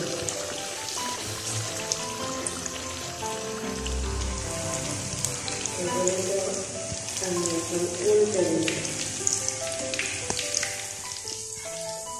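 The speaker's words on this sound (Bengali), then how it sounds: "এখন এটিকে আমি ভালো করে ভেজে নেব" Egg balls frying in oil for Indian street food, a soft bubbling crackle like light rain, steady and fairly quiet, with someone speaking briefly over it.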